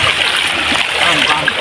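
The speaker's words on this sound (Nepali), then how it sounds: "आमा पानी परिरहेको छ" Steady rain falls outdoors along a road, a dense, even hiss of drops splashing on wet surfaces that runs without a break from start to finish.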